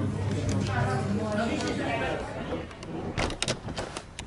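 A door being opened and handled, with several sharp knocks and rattles near the end, preceded by a noisy stretch of mixed background sound and indistinct voices.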